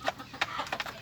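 Backyard chickens being fed cluck close by in a few short, quick bursts, moderately loud and without talk.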